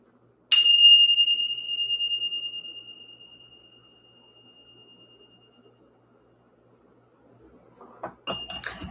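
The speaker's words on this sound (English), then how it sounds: "Let's go ahead and ring the bell. Let's clear out the energy" A single bell is struck once, giving a bright, pure ringing tone that decays slowly over several seconds, followed by faint clinks and handling noise near the end, close and with no talk.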